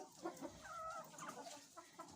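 Chickens and roosters clucking inside a coop on a rainy day, a few scattered soft clucks and calls, faint and fairly close, with no talking.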